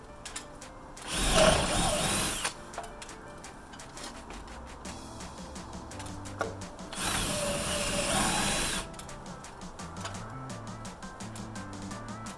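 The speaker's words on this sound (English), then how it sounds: "I'm going to drill a hole and we're going to run this through to the back side of the shed" A power drill bores a hole through a shed wall in two loud, sustained bursts separated by a few seconds of quieter handling and clicking.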